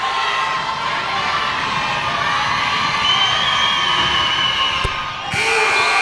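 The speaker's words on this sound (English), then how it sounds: "The LIU crowd from just over a mile away really getting into this one now, trying to spur their team on." A college basketball crowd in Brooklyn roars and cheers continuously, a dense wall of shouting and whooping from a packed arena with a brief sharp accent near the end.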